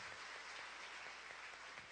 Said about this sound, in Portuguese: Pode aplaudir bem forte, porque é graça.